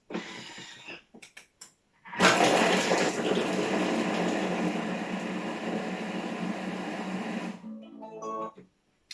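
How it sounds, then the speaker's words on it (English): A Thermomix chopping aubergine and sweet potato, a loud whirring, rattling burst that runs steadily for about five seconds and then cuts off, with brief quieter handling noises before and after. "we're going to turn the speed selector to 5 and it's going to chop those vegetables up"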